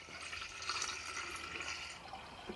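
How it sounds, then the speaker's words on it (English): Water pours steadily into a gallon container, a continuous gurgling splash with no pause, fairly faint and heard alone. "I've got some water in here, so I'm just going to pour"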